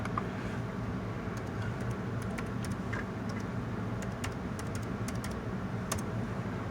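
Light tapping on a computer keyboard, scattered quick keystrokes over a soft steady background hum, fairly faint and close.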